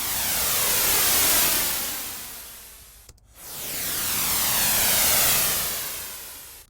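Synthesized white noise sweep riser with a chorus effect: a loud, airy hiss swelling and filtering upward, cutting off abruptly at mid-point, then sweeping up again in a second wide whooshing rise.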